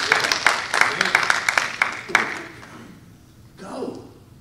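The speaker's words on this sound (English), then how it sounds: "I just wish somebody would give God a good, great hand clap of praise." Church congregation clapping hands in praise, a rapid run of sharp, fairly close claps for about two seconds before fading into room noise, with a voice speaking briefly afterward.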